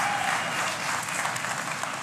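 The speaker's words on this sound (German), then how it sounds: "Klatschen Sie bitte nicht ganz so laut" Studio audience applauding at the start of a German TV cooking game show, dense steady clapping throughout that stays loud and close without any talk over it.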